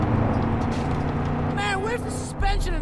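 A video game vehicle driving over rough ground, its engine a steady low rumble close by with a bumpy, uneven texture; a voice briefly cuts in over the drone near the end.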